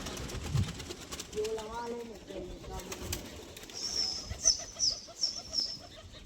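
Pigeons coo in low, soft, repeated calls, followed by a run of brief high chirps, all faint over a murmuring background.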